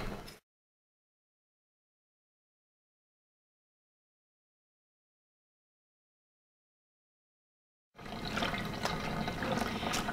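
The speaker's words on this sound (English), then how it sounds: "I'm gonna rinse it under the water, but fill it back up in here." Mohair fleece rinsed under running water from a tap: a short splash at the start, then silence, then a steady rush of flowing water filling and pouring for the last couple of seconds.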